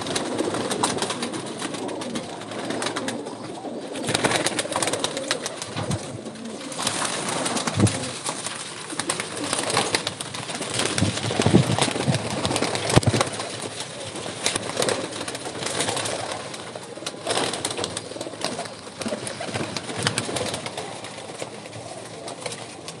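Pigeons coo repeatedly and overlap one another in a loft, with soft rustling throughout.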